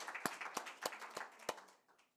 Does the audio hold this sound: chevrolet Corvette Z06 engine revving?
no